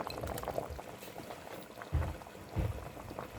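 Sago pearls boiling in a pot on a home stove, a steady bubbling simmer with a couple of louder bursts of bubbling near the end, close up and with no talking.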